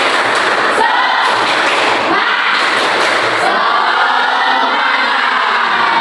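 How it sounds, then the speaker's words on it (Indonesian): A school class doing the "tepuk semangat" clapping chant, a loud crowd of young voices chanting in unison with rhythmic thumping claps, dense and close. "Tepuk semangat."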